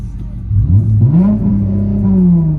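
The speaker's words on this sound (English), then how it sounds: "we're gonna end the video off of Bunny revving his car" A Chrysler 300 engine revs up sharply, its pitch climbing and then holding at a high, steady drone, loud and close.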